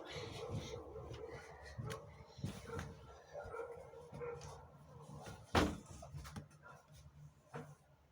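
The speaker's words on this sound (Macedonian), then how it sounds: "Зачекајте, кучиња некој нападна." Dogs barking outdoors near an apartment building during a wedding gathering, with several scattered barks and yelps over a noisy background of crowd and music, plus a sharp bang midway.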